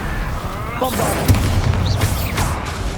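A Bombarda blasting spell in Hogwarts Legacy erupts in a deep, rumbling boom amid busy combat effects and whooshing spell sounds, with a steady roar underneath.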